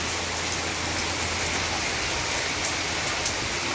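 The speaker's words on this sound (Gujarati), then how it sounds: "ફાઇનલી ધોધમાર વરસાદ ચાલી રહ્યો છે" Heavy downpour pounding outside, a dense, unbroken roar of rain on surfaces that stays steady throughout with no voices.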